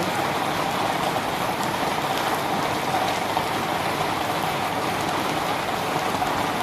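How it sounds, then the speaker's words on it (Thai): Steady rain falls and patters on surfaces nearby, a constant even hiss with no voices or pauses. "ฝนตกดีดีจ้ะ"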